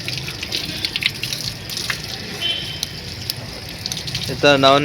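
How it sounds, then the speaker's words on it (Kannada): A pigeon bathing in water makes intermittent splashes and trickling water sounds at close range, with a voice talking briefly near the end. "ಅವನು ನೋಡಿ ನೀರಲ್ಲಿ ನೆನೆಸ್ತಾವನೆ"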